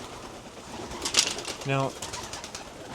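Pigeons coo in a breeding loft with a soft, low throbbing call midway through. Someone says a word early on, and there are scattered rustles and faint background bird sounds.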